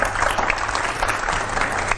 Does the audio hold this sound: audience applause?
yes